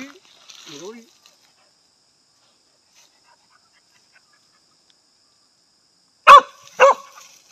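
A hunting dog being tested for snake hunting in a Vietnamese village barks twice in quick succession, loud and close, after a faint early sound and long near-silence.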